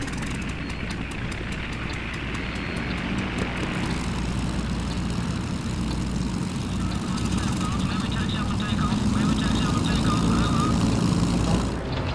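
Halifax bomber engines drone steadily and loud for the whole stretch at takeoff, a dense continuous aircraft roar with a slight rise toward the end.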